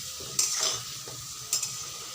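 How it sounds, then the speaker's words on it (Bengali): Fried potatoes being lifted out of hot oil, with a soft steady sizzle broken by two bright metallic scrapes and clinks from a utensil, close up and without talk. "আলুগুলো তো ভাজা হয়ে গেছে, তুলে নিব এখন আমি"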